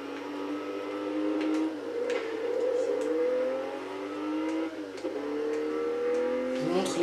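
A Porsche RUF Turbo in Test Drive Unlimited 2 speeds along a highway, its engine climbing through several gear changes with rising and falling revs, steady and fairly loud and without speech.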